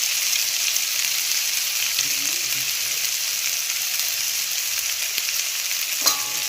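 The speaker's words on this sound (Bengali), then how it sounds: "লবণটা দিয়ে ভালো করে আবার নাড়াচাড়া করে নেব।" Salted pasta being stirred in a frying pan, a soft continuous sizzle with faint occasional scrapes and one sharper clink near the end, close-up and without voices.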